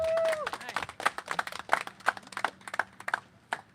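Audience applause at a community readiness awards event, a brief burst of many hands clapping at close range that quickly thins out and fades.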